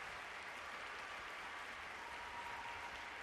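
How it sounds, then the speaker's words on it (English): Crowd cheering and clapping at a Dota 2 International 2021 tournament match, a steady distant wash of noise from a large arena audience, fairly faint and even throughout. "The cheering is very interesting."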